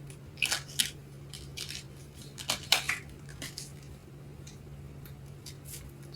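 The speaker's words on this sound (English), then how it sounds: "Shuffling these cards are hard." Tarot cards being shuffled by hand: a scattering of quiet, brief papery snaps and flicks in small clusters over a low steady hum, with no one talking.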